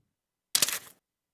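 A single short, crisp paper rustle or swipe, recorded close against silence as a sound effect for a rock-paper-scissors game.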